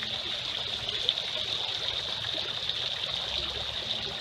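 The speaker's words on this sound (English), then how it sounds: "Look at this fountain. It's making an orb of water." A water fountain splashes continuously outdoors, forming an orb of water; a steady, moderately faint hiss of falling water with no other sounds.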